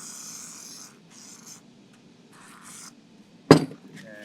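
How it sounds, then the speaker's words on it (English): Wet sanding with WD-40 on a C5 Corvette gives soft, scratchy strokes in short bursts, followed by a sharp knock or clink near the end. "I'm just going to sand it this way"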